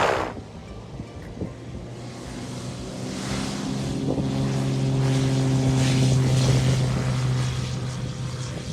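An ultralight (ULM) propeller aircraft engine drones steadily, its tone rising and growing louder midway as if revving up, with wind buffeting the microphone throughout and no talk.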